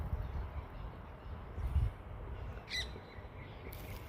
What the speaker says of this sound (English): There are parrots hiding.